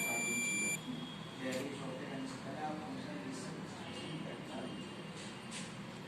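A multimeter emits a brief electronic beep at the start while probing a diode on a mobile phone circuit board, followed by someone speaking continuously over faint background noise.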